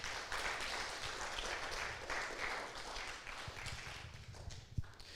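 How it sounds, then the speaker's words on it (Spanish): A church congregation at a Spanish-language Sunday service claps together, a moderately quiet, rough patter of hands that continues for a few seconds with a few heavier thumps near the end. "Denle un fuerte aplauso a Dios."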